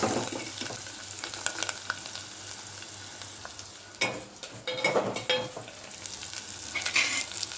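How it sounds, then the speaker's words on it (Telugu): Onions fry in oil with tamarind pulp for tamarind rice, giving a soft, continuous sizzle with stirring scrapes and a few louder clattery stirs toward the end, fairly quiet and close, no talking. "ఉల్లిగడ్డ వేగిపోయింది ఇప్పుడు చింతపండు రసం వేసుకోవాలి"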